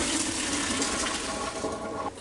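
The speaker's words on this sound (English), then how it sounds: "I take my macaroni and I'm going to pour it in this colander so it'll be draining." Cooked macaroni and its water poured into a colander, a loud, close rushing gush of draining water that stays steady before cutting off abruptly at the end.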